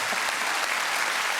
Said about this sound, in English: Oh, go on, a round of applause.